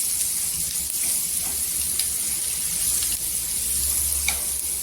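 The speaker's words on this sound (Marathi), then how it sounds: "मसाला घेतलेला आहे वाटून तो टाकायचा छान मसाल्याला परतून घ्यायचा तेलावर" Ground masala frying in oil in a kadhai for a brinjal and potato gravy, giving a steady hissing sizzle throughout with faint clicks of stirring scattered over it.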